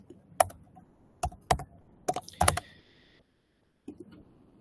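Keys on a computer keyboard are tapped in a few short bursts, close and crisp, with brief pauses between groups of clicks.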